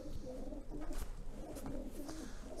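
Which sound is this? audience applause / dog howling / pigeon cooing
pigeon cooing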